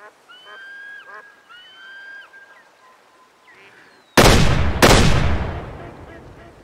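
Two loud, close gunshots fired in quick succession at ducks in the hunting video game Way of the Hunter, following quieter game sounds and birdlike calls.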